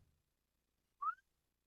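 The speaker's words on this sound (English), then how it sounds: "Can you do a whistle for us?" A person's whistle made through the teeth: one short rising tone lasting about a fifth of a second, clear and fairly close, alone after a moment of quiet.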